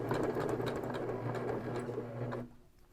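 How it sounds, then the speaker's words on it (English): Home sewing machine stitches steadily down a seam on a fabric popcorn bag, a fast even whirring rattle heard close and alone, stopping abruptly near the end. "Then I'm stitching all the way down that seam."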